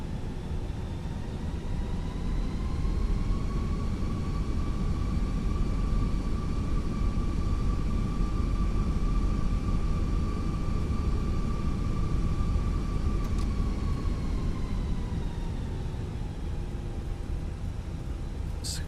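A Fenix A320 airliner taxis in Microsoft Flight Simulator, giving a steady, loud, broadband engine rumble and roar with a sustained whining tone throughout and no pauses.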